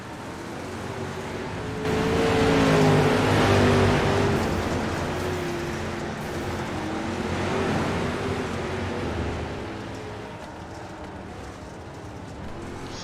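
Race cars in the iRacing simulator roar together at a restart, a dense, loud engine wash that swells and fades as the field passes. Layered engine tones rise in pitch and stay continuous throughout.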